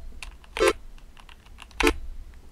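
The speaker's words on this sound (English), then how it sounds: "just kind of play notes with my keyboard, which is just a regular keyboard, it's not a music keyboard" Typing on a regular computer keyboard, used to play notes while making music, with scattered light key taps and two louder, sharper clacks close by.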